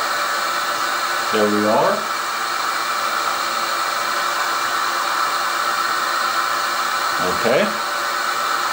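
The spindle of a milling machine runs as a loud, steady, broadband whirring hiss that fills the whole stretch, while a person briefly speaks over it twice.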